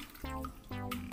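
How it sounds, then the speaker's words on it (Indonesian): Water poured over plastic toy trucks, a garbage truck and tour bus among them, to rinse them clean, two short splashing pours with a trickling, slightly hollow tone, close and fairly loud. "Kita siram saja yuk. Supaya cepat bersih."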